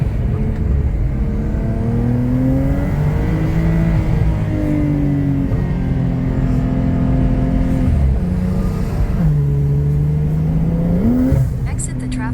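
A Porsche 992 engine pulls hard and steadily through rising revs, a shift dropping the pitch before it climbs again, loud and close from inside the car, with a voice speaking over it.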